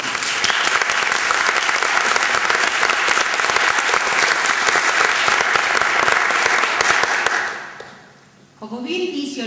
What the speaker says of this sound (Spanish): Para estos tres magníficos jurados pedimos un aplauso de gratitud